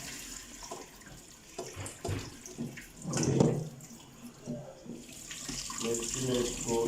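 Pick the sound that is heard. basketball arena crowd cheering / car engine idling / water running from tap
water running from tap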